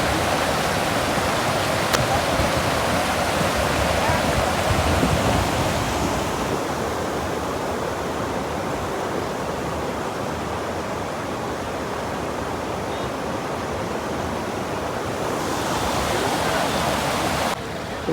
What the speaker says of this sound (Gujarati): ફૂલ પાણીનું પ્રેશર છે મિત્રો તો તમે જોઈ શકો છો.